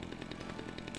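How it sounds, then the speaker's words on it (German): A chainsaw in the video game Dead Rising 4 revs in a continuous buzzing drone with a rapid pulsing rhythm, loud and close, with no speech. "Kettensäge mitnehmen?"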